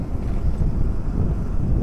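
Strong wind buffeting the microphone with a steady low roar over the open Red Sea off Hurghada, Egypt, no voices.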